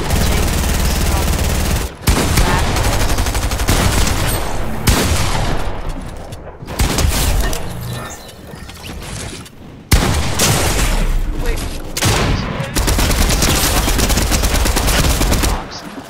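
Dense, loud Fortnite gunfire with shotgun blasts and rapid SMG bursts, near-continuous rattling volleys broken by a few short pauses, with voices faintly underneath.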